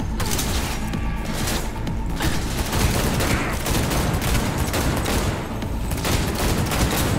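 Rapid gunfire from the video game Cyberpunk 2077 crackles in a dense, continuous fusillade with mechanical clatter, loud and sustained throughout, with no talk over it.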